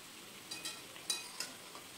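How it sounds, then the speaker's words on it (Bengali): Eggplant and ridge gourd frying with spices in a pan, a low steady sizzle with soft scrapes of stirring coming every fraction of a second, close and quiet. "এর মধ্যে এবারে দিয়ে দিচ্ছি বেগুন এবং ঝিঙে। এই সময় একটু নেড়েচেড়ে নিয়ে মিশিয়ে নিতে হবে"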